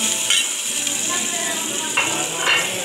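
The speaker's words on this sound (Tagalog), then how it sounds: "Ipreto lang ng ipreto." Chopped onion and garlic sizzle in a hot pan, a steady wash of frying hiss with faint stirring scrapes near the start and again toward the end, close and continuous with no talking.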